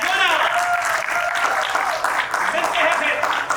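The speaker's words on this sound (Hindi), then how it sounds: "एक बार फिर भरपूर तालियां एंटोना।" Loud, sustained applause from a large theatre audience, steady clapping filling the whole moment with some cheering mixed in.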